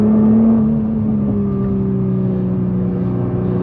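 A Nissan GT-R NISMO drives along a twisty road among other traffic, its engine a steady mid-pitched drone with a slowly shifting tone, heard from the cabin at moderate level with no talk.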